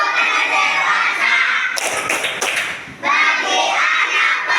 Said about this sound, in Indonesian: Ayo tepuk tanda dewasa.